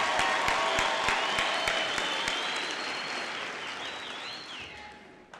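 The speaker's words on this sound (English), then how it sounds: "Let's all give them a round of applause." The audience at a May 2023 graduation ceremony applauds, with a steady wash of many hands clapping, some sharp individual claps and a few whistles, fading out toward the end.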